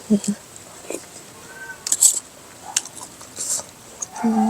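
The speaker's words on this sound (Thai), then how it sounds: "แมวตีกันอยู่ใส่บ้า" Cats fighting inside a house, heard as scattered short yowls and cries spread through the clip, mixed with background noise and brief knocks; a brief voice may also be present.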